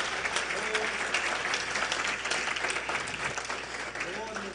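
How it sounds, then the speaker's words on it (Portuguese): A church congregation at an inauguration service claps loudly and steadily, a thick crowd applause with faint voices mixed in underneath. "Dê para Jesus mais uma forte salva de palmas"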